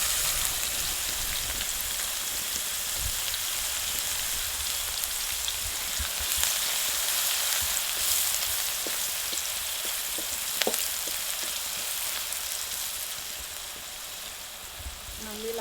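Curry leaves, chopped green onion and asafoetida sizzling in hot tempering oil for spiced chickpeas, a steady, crackling frying hiss with scattered pops throughout, close and continuous.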